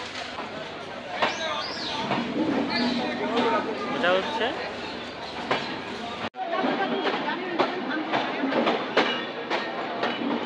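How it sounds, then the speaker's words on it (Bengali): A passenger train pulls out of Puradah junction near the Gede border, with rolling rail clatter and carriage rumble throughout, a brief dropout midway, and people talking and chattering over it nearby. "আমাদের ট্রেনটি ছেড়ে দিয়েছে পুরাদাহ জংশন থেকে"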